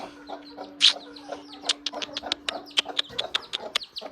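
Several chickens eating grain cluck close by in quick, uneven pecking bursts, with a low steady hum underneath that cuts out partway through.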